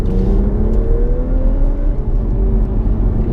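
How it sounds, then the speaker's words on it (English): A remapped Audi S5 engine revs steadily under load around 3,500 rpm at 30 mph, its whirring pitch slowly climbing, heard from inside the moving car with a constant low road rumble. "I like the sound when a car makes that noise out of the exhaust"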